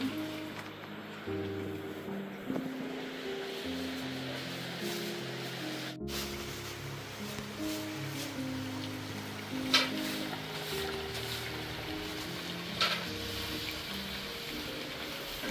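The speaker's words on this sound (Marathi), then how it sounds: "वडे चांगले तळून घेऊया मित्रांनो" Homemade Malvani vadas made with village cucumber deep-frying in hot oil, giving a steady close hiss with scattered crackles and a couple of sharper pops, while low tones hum in the background.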